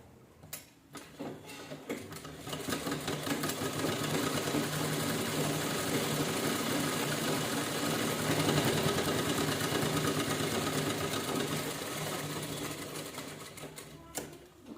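Sewing machine stitching a two-colour fabric purse, a steady rapid mechanical whir that starts after a few clicks, runs continuously at an even pace and eases slightly near the end, close up.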